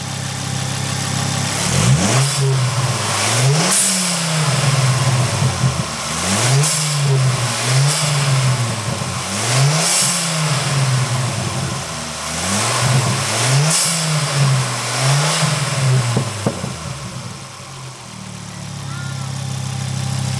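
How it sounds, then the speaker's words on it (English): A Mk2 Ford Focus ST engine fitted with a Turbosmart recirculation valve, revved repeatedly in quick bursts that each climb and drop back, loud and close under a steady idle, with a hiss or whoosh after several of the revs. "And rev it."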